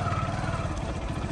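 A motorcycle rolls slowly along a badly broken road, its engine putting out a low, uneven chugging close by, with clattering bumps mixed in over a short stretch.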